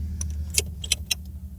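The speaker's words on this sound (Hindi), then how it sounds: "मैं इस गाड़ी को की लगाता हूँ" Keys jangle and click as they go into the ignition of a 2007 Honda Diva 660cc car, several short metallic taps over a low steady cabin hum, close and brief.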